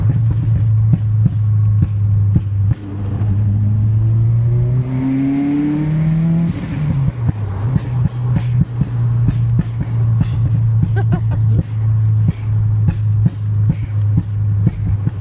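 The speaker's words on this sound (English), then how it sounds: "You can hear the exhaust popping and banging now." Subaru Impreza WRX STI Spec C on a road drive, engine revving up and down with a string of sharp, loud exhaust pops and bangs on the overrun, heard from inside the car.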